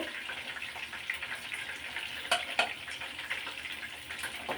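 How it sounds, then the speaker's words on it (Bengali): Chicken pieces for fried rice frying in hot oil, a close, continuous crackling sizzle with a couple of sharper pops midway, fairly quiet overall. "আর তো আমার চিকেনগুলো প্রায় মুখ ভাজা হয়ে গেছে"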